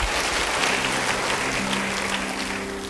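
A church congregation claps during a sermon, a dense, even roar of applause sustained throughout at fairly strong level, with no talk over it.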